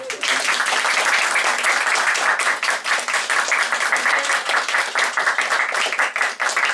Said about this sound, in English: everyone, please a round of applause